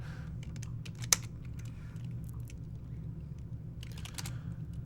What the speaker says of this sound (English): I hit the wrong key on my keyboard.